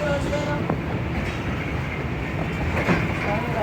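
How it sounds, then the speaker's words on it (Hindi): The 8 Down Tezgam Express pulls out of Wazirabad railway station with a steady rumble of rolling wagons and a few faint clicks and squeals, loud and continuous throughout. "वज़ीराबाद रेलवे स्टेशन से रवाना हो रही है 8 डाउन तेज़गाम एक्सप्रेस।"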